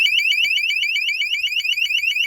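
A loud electronic motion-triggered car alarm, set to guard against martens, warbles continuously, its shrill rising-and-falling tone repeating rapidly throughout, with a brief click partway through.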